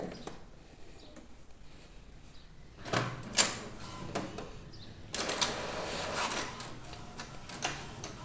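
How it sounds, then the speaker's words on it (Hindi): Inkjet printer printing a colour page after an HP 682 cartridge refill, with a quiet whirr and then clustered mechanical clicks, ticks and carriage clatter, fairly close and without speech. "तो प्रिंटर शुरू हो चुका है और प्रिंट आउट हमारा निकल रहा है"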